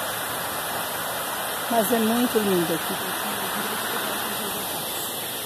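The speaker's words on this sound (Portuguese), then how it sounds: "Ó, ali tá a cachoeira" A waterfall along the Tropeiros trail in Tajuvas, Morrinhos do Sul, gives off a steady, distant rushing hiss, with a person briefly speaking over it.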